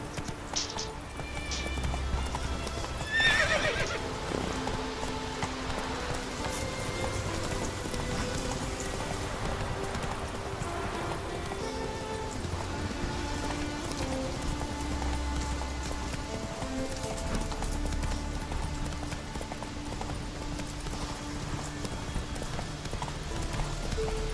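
A horse galloping in The Witcher 3, with steady rapid hoofbeats running the whole time over a constant ambient wash that sounds rain-like.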